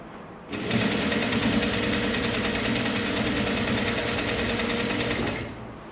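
A sewing machine stitches fabric for a sleeveless top, starting abruptly and running in a fast, even mechanical whir for about five seconds before stopping, close and loud.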